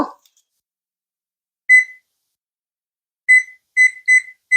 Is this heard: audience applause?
no